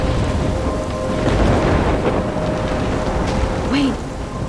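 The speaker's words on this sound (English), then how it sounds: "I'm trapped in a storm?" A thunderstorm in Life is Strange: rain pours steadily over a deep rumble of thunder, with a short whooshing sweep near the end and no voices over it.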